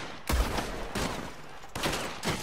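Rifle gunfire in the Red Dead Online video game: four or five sharp shots spaced about half a second apart, each with a short echoing tail, moderately loud with no talk.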